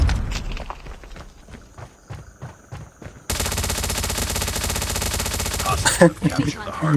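Gunfire in Call of Duty Mobile: a few scattered shots are followed by a loud, sustained automatic burst lasting several seconds. Footstep-like game sounds and a voice are also in the mix.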